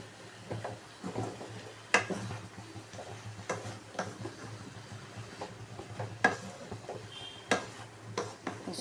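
Turmeric and coriander powder being sautéed in a pan: soft sizzling with frequent scraping ticks and clinks from stirring, close by and steady, with no voices.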